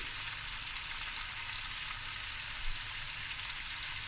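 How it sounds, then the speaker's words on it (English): Fresh curry leaves frying in hot oil for a lamb shank akhni, a steady bright crackling sizzle, close and even, heard alone for a few seconds. "And I've got some fresh curry leaves going in."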